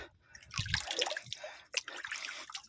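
Spring water trickles and drips nearby on a hillside, a soft irregular splashing and gurgling with no voices over it.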